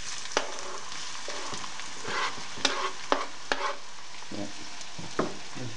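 Chopped onions frying in a pan for Turkish mercimek köfte, a soft steady sizzle broken by sharp clicks and scrapes of stirring, close and without talk.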